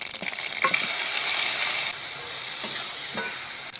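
Whole mustard seeds, dried red chilies and bay leaves spit and sizzle in hot mustard oil in a kadai, a bright constant frying hiss with a few sharp stirring scrapes and pops.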